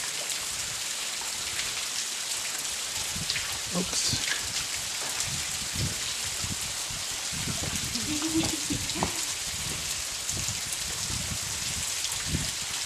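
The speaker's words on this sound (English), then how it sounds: "And look at this beautiful waterfall." Cathedral Rock waterfall rushes in a constant, hissing broadband roar close by, steady for the full stretch, while a few voices chat intermittently over the falling water.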